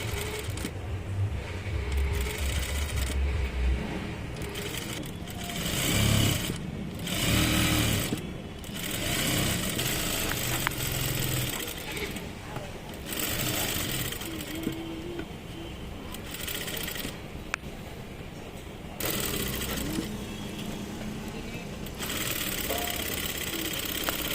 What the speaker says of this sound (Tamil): இப்போ நம்ம இதை ஃபுல் தையல் இங்கே எண்டிங்கில் போட்டு முடிச்சாச்சு.